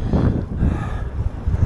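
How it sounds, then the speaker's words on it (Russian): A headwind buffets the microphone of a touring bicycle rider in rough, gusty rumbles for a moment, loud and close. "Как не дождь, так ветер встречный."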